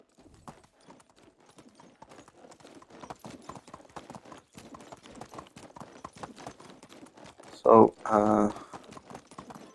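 Horse hooves clip-clop in rapid steady steps in Medieval Dynasty, close and continuous, with someone speaking over them and a loud burst near the end.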